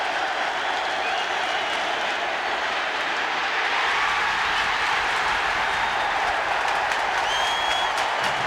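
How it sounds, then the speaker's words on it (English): A college football stadium crowd at Ohio State versus Wisconsin in 1992 roars loudly and continuously, a dense wall of cheering that swells slightly partway through. "because the crowd is deafening already."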